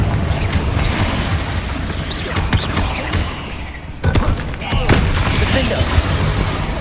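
Repeated Confringo blasting-curse explosions in a Hogwarts Legacy spider battle land as loud booms and thuds amid a chaotic spell-casting fight, with voices shouting spell names over the impacts.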